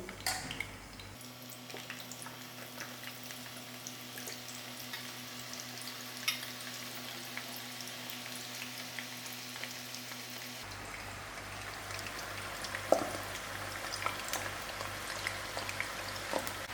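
Potatoes deep fry in about two centimeters of hot oil for a Mauritian cari bari, a soft steady sizzle and bubbling crackle up close, with a low background hum that stops partway through.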